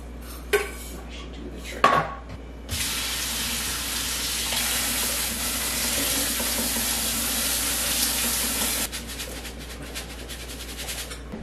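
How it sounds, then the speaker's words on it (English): Brown rice being rinsed in a metal strainer under a running kitchen tap: a couple of clinks and clatters, then a steady loud rush of water for several seconds before it shuts off. "So I have my strainer right here, so I can give it a good rinse before we put it in the mason jar."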